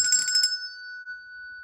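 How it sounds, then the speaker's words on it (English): A single bell or ringtone-like tone sounds, with a brief jangling burst at the start and then one long, steady, clean ring that sustains to the end, with no talking. "Every time a bell rings"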